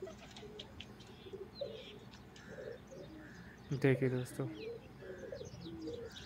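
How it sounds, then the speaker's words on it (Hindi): Pigeons for sale at a breeder's loft coo softly in the background, with chirps and bird calls scattered throughout while someone talks over them. "लाजवाब कबूतर हैं, बेमिसाल और बेमिसाल कबूतर दोस्तों।"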